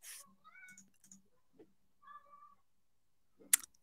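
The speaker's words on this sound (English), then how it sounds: "that's my little cat son screaming, and he's screaming for no reason" A young pet cat lets out several loud, whining meows in short bursts, close to the microphone in a quiet room, ending with a sudden sharp clatter.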